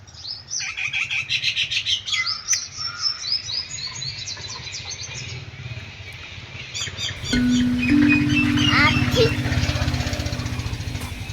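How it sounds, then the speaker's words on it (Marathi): Birds chirp and tweet in a quiet natural setting, with busy high calls at first. Later, a steadier low mechanical hum rises beneath the birdsong. "आता तुम्ही पक्ष्यांचे आवाज ऐका."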